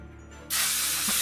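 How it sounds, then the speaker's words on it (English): In a horror video game, a sleep spray bursts from a bottle with a sudden loud, close hiss that starts sharply and holds steady for under a second, with no talking. "That spray knocked me out."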